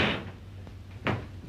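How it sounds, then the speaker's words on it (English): A door swings shut with a single firm thump near the end, after a brief rustle and a fainter knock, heard close in a quiet room. "Close that door."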